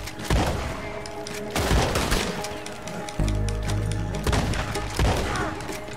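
Gunfire from Red Dead Redemption 2, a rapid volley of loud, booming shots spread across the clip, with a heavy low rumble in the middle and more sharp cracks near the end.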